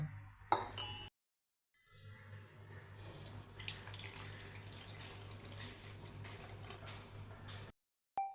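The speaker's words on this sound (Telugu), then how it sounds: "గోధుమ రవ్వ 2 కప్పులు తీసుకొని వీటిని ఒకసారి శుభ్రంగా వాష్ చేసుకుందాం" Running water splashes steadily into a vessel as wheat semolina is rinsed, with a few clinks at the start and brief silent gaps.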